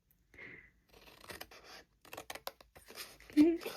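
Scissors snip through cardstock for a Stampin' Up! fold-flat gift box, giving several short, close cuts and scraping paper sounds in an irregular rhythm.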